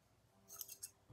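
Scissors snipping through elastic for a sewing project, a few quick, faint, close cuts with a soft crisp edge, heard alone.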